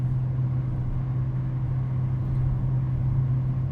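A BMW E46 ZHP drives along, its engine making a steady low drone with a constant hum from inside the cabin, unbroken and fairly loud.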